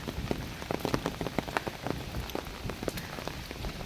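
Rain falling in the Carpathian mountains, steady patter of drops striking a surface with scattered sharper close splats, continuous and fairly loud with no voices.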